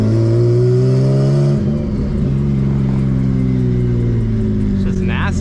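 Turbocharged Nissan Z race car engine running with no exhaust and a different manifold, revving loud and close with a harsh, droning tone that holds steady and shifts pitch slightly, with people talking over it.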